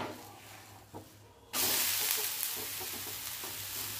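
A dhirde, a thin Maharashtrian pancake, roasting on a hot pan right after being flipped: a soft rustle and a knock, then a sudden loud, steady sizzle that carries on to the end.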